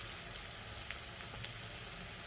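Onion fries in a pan, giving a quiet, steady sizzle with a few faint ticks and pops throughout.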